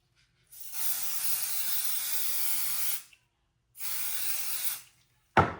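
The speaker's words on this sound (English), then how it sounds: "I'm going to spray." Two long bursts of adhesive basting spray hiss from an aerosol can onto quilting foam, each lasting a few seconds with a short pause between, close and clear, ending with a brief sharp knock.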